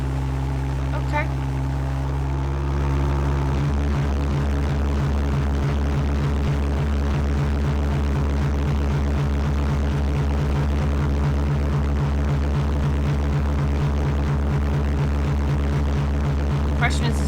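Homemade jet boat engine running on water, a loud, close, rapid low pulsing drone that starts smoother, then settles into an even throbbing rhythm for the whole stretch.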